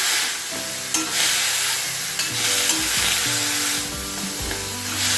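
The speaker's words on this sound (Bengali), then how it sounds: "এখন আমি মশলার সাথে মান কচু ঘন্টটাকে ভালো করে মিশিয়ে দিচ্ছি" Taro (man kochu) ghonto stirred with turmeric and cumin powder in a pan gives a dense, continuous close sizzle, with hollow spoon scrapes and knocks against the pan.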